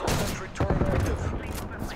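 Enemy sniper fire in the Black Ops Cold War video game, with a few sharp gunshot cracks and echoing reports over in-game background noise, close and fairly loud.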